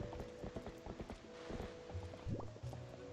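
A ridden horse's hooves clip-clopping in a video game, a quick, even run of close, crisp hoofbeats with faint mechanical clicks and a brief rising tone near the end, quiet overall.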